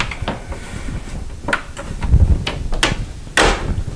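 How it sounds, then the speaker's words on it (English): A locked bedroom door being tried: a series of soft rattles, clicks and knocks from the handle and latch, close by, with a slightly louder thump near the end. "The door is locked, you can't get in."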